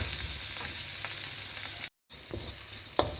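Onions sautéing in a pan for a vegetarian tofu stir fry make a continuous close sizzle with occasional light clicks, broken once by a brief moment of silence.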